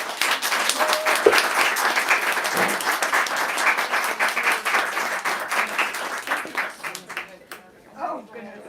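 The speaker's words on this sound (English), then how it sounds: "let's give these two one last round of" An audience at a book event breaks into a strong round of applause that thins out toward the end, with people talking over the last stretch.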